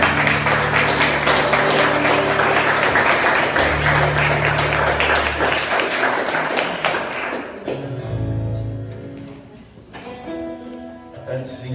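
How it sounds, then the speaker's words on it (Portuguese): A church congregation on its feet applauds, dense rapid clapping filling the first seven seconds over sustained keyboard chords, then fading as the music and a voice carry on. "Pode aplaudir ele."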